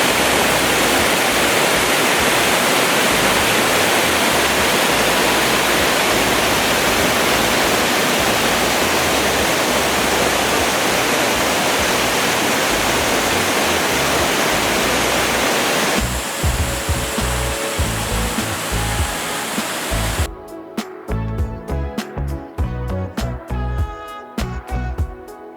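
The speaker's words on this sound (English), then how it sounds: "This is the River Ebro" Strong, steady rush of water from the River Ebro flowing beneath an old stone bridge in a town, loud and broadband for most of the stretch, then cutting to a thinner, more broken wash near the end.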